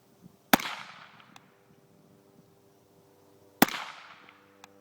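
Two suppressed 300 AAC Blackout rifle shots with supersonic ammunition, each a sharp loud crack followed by a fading outdoor echo, spaced about three seconds apart, with faint clicks in between.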